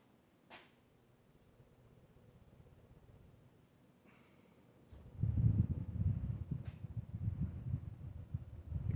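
A white 52-inch Hunter Mayfair ceiling fan with a 1990s direct-drive motor, switched up to high: a faint hum swells into a loud, steady low whooshing rumble of moving air that continues to the end, with no voices.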